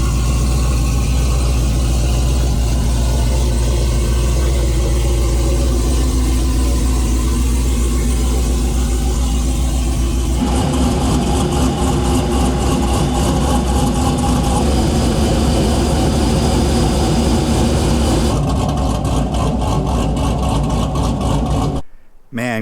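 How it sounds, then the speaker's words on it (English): A Chevrolet Suburban 2500 (a 3/4-ton, ex-Border Patrol truck) idles steadily and loudly up close while being pulled out. The tone shifts partway through as it moves, and it cuts off abruptly at the end. "let's go ahead and get the Suburban pulled out and see what it looks like in the sun"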